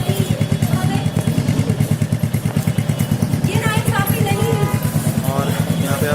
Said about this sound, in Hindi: यहाँ पे आप इसका एग्जॉस्ट देख रहे हैं। आपको एग्जॉस्ट में काफ़ी अच्छा नोट देखने को मिलेगा।